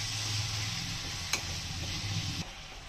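Chopped fenugreek leaves being stirred into potato sabji in a pan, giving a steady close scraping and soft sizzle with a sharp clack near the middle before the sound eases off.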